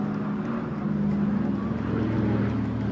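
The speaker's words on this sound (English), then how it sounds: "Great sight of the Dakota from the RAF Memorial Flight, based at RAF Coningsby" A Douglas Dakota transport aircraft of the RAF Memorial Flight from RAF Coningsby flies overhead in a Trooping the Colour flypast, its steady piston-engine drone loud and continuous, with no talk.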